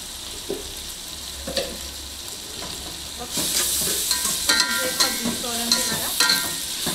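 Onions with salt and ginger garlic paste sauté in a pan for a chicken curry, a quiet sizzle with a few utensil scrapes that swells into louder, brighter frying hiss and popping halfway through.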